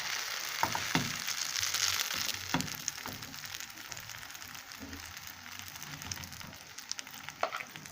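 Egg-dipped bread frying in a hot pan gives a steady, close hiss and sizzle with a few sharper crackles and pops scattered throughout. No voices are heard.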